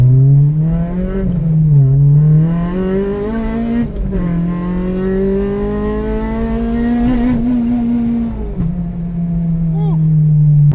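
An Acura RSX Type S four-cylinder revving up into VTEC, a loud sustained engine note that climbs and dips in pitch over several pulls, heard from inside the car with a voice shouting over it.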